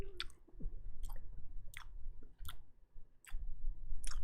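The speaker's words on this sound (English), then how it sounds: "I'm chewing." Close, wet chewing of food in a slow, irregular rhythm, with sharp clicky mouth sounds recurring about once a second over a low background rumble.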